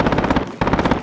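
Helicopter approaching in the video game Warzone, a loud rapid rotor thumping, pulsing steadily with a brief dip midway.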